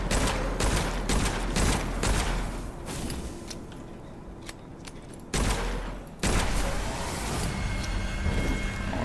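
Rapid bursts of gunfire from the video game Witchfire, dense sharp shots in quick volleys, then a brief lull and more shooting, close and loud with no talk.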